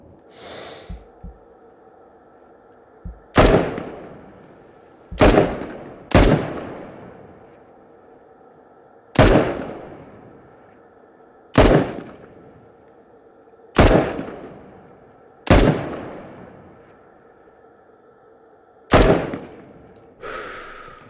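Gunshots in the VR video game Into the Radius: about nine sharp, loud single reports spaced a second or more apart, each with a short decaying tail over a quiet background.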